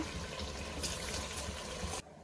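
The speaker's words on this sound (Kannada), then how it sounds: "ನೀರು ಸೇರಿಸ್ಕೊಳ್ಳಿ." Water pours steadily into a pot of washed rice for about two seconds, a soft splashing rush that stops abruptly, leaving quiet.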